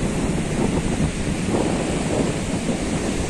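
Sea surf washing onto the beach at Rilgaon, a broad steady roar of waves mixed with wind buffeting the microphone, continuous and fairly close with no voices.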